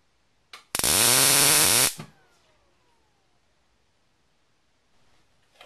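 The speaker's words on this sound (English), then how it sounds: "if you ever heard the term arcing, folks, we have just demonstrated it well." Electrical arcing inside an arcade machine after a fuse swap: a sudden loud, harsh electric buzz lasting about a second, followed by near silence with faint clicks.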